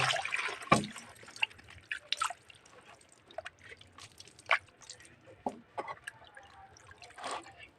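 Fish being washed in water by hand during village-style fish fry preparation, with dripping, trickling and splashing water in irregular bursts, close and moderately quiet, no talk.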